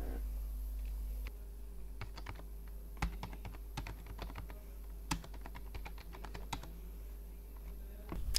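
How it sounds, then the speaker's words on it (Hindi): Someone types a heading into an Excel spreadsheet on a computer keyboard, making a steady run of close, irregular key clicks with a few sharper presses over a constant low electrical hum. "हेडिंग टाइप करेंगे।"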